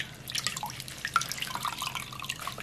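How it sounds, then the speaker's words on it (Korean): Water drips and trickles from a bunch of rinsed, blanched water dropwort (minari) being squeezed by hand in a kitchen, a close, soft run of patters and splashes with no talking. "물기를 꼭 짜놓겠습니다."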